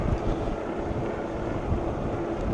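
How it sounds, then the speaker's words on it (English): Wind rushes past while riding a SAMEBIKE RS-A02 Pro electric bike into a headwind, a constant low roaring buffet over the microphone with no other clear sound. "The wind is blowing right in my face"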